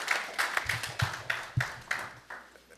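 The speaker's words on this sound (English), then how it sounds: "let's give both choirs another round of applause" At a church service, an audience claps for two choirs. It is a sparse, slow round of distinct hand claps, roughly nine over a few seconds, fairly faint and fading toward the end.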